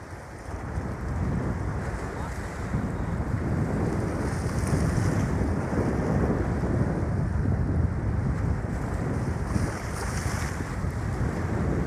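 Waves break and wash onto the Lake Michigan shore in a continuous loud roar mixed with heavy wind buffeting the microphone, close by.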